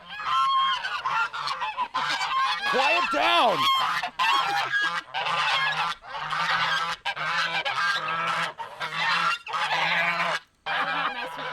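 Geese honk loudly and continuously in a yard after being chased from a coop, a dense, overlapping chorus of calls that fills the whole stretch, with a brief voice shouting over them.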